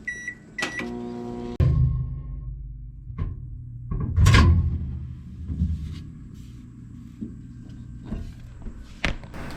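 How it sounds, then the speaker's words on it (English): A door thuds shut, then a low hum with clunks and rattles as a microwave oven starts up and runs, heating soft plastic for fishing bait making, with a faint beep early on. "So let's get that in the microwave."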